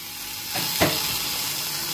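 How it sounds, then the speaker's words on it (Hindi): Corn dropped into a pan of sizzling chicken, a brief louder burst of frying and stirring rising over a steady hiss that runs through the whole stretch. "चिकन इसमें मैं कॉर्न डालूंगी।"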